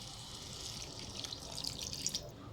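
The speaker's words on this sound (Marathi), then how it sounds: "आता भाजी शिजण्यापुरतं आपण त्यात पाणी घालून घेणार आहे।" Water pours into a pot of tomato purée, marinated cabbage and potato cooking for veg biryani, a steady splashing stream with bright gurgles that grow louder toward the end.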